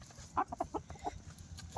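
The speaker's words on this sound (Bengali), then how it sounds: "এটা কিন্তু দেশি মোরগ একদম" A desi rooster clucks close by in a short burst of several quick, throaty calls, then falls quiet with one more faint cluck near the end, over a low rural background.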